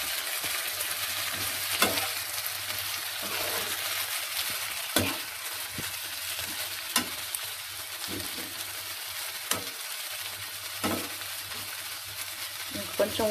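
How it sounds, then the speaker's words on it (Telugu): Tomato stirred and frying in a pan: a continuous sizzle broken by regular scraping strokes of the spoon, close and moderately loud. "ఇలా ఫ్రై అయిన తర్వాత మనం టమాటా అయితే వేసుకుందాము. టమాటా వేసి కలుపుకుందాము."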